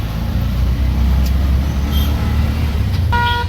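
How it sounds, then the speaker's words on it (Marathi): A car drives along a road with a steady low engine hum and tyre rumble, faint traffic in the background and a brief horn near the end. "आमची गाडी एक चालली बघा पुढे"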